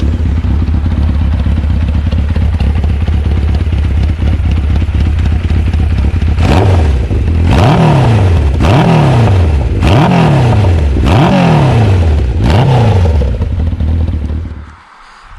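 A Kawasaki Zephyr 750 motorcycle engine runs loud and close at a steady idle, then revs in five sharp rising and falling blips before being shut off and dying away.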